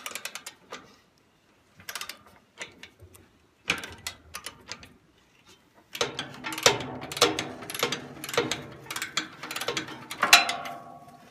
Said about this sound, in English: now I'm gonna take those bolts off there and get these brackets off